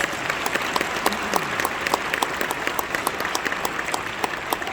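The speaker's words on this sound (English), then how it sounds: "So let's give Chief Maurice Cullinane a round of applause." An audience applauds at a police chief's speech event honoring former Chief Maurice Cullinane, a steady crowd clapping of many hands sustained throughout.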